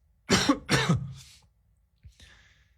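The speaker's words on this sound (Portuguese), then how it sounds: "Essa tosse não faz parte do roteiro," A pair of loud, close coughs one after another, followed by quieter throaty breaths and a faint rasp.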